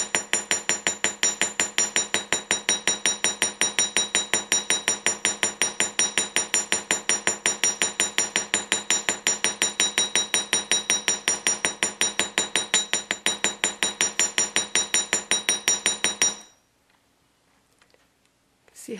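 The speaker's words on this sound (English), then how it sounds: "just let the weight of the hammer come down and just do little taps." A small hammer taps wire to texture it for handmade earrings, making a fast, steady run of bright metallic clinks that are close and loud, then stopping abruptly into near silence.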